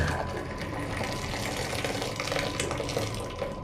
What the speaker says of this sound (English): now just transfer this milk